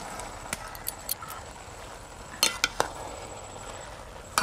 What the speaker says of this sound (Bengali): এবার ছাড়িয়ে ধুয়ে রাখা মটরশুঁটিগুলো দিয়ে দেব